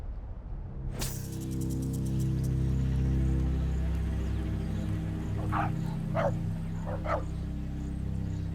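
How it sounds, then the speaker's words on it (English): A dog barks several times in quick succession, short sharp yelps in the second half after an initial sharp click, moderately close over a steady low background hum. "You could see that dog was barking and barking."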